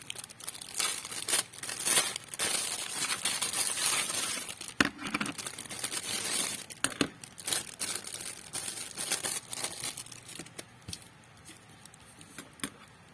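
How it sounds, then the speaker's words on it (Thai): A plastic bag is unwrapped from a 1/6 scale model display stand, with continuous close crinkling and rustling and sharp crackles that fade toward the end. "แล้วก็มีฐานใส่ถุงพลาสติกมา มาแกะกันเลย"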